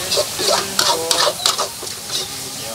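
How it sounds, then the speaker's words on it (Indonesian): Eggs frying in a wok at a night street noodle stall in Jogja: irregular scraping and stirring clatters of a metal utensil against the pan over a steady sizzle, close and fairly loud. "Goreng telur, goreng kuning."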